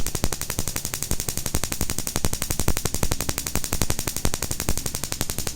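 Ignition coil on a Daihatsu Mira engine with a rough idle and misfire, firing a rapid, very loud, evenly spaced train of sharp spark snaps that runs continuously throughout, with no talking.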